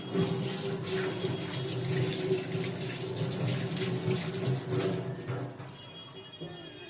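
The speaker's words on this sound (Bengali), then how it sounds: "আমি একটু হাতটা ধুয়ে নিই" Water from a kitchen tap runs steadily over hands being washed at a sink while cooking, a continuous splashing stream near and fairly loud that eases off toward the end, with faint birdsong in the background.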